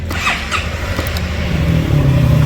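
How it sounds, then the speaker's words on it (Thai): A 2018 first-generation Honda Forza 300 scooter with its stock exhaust starts with a single press and settles into a steady, close idle hum that grows slightly louder over a couple of seconds. "เดี๋ยวลองสตาร์ทให้ฟังเสียงของเครื่องยนต์กันนะครับ"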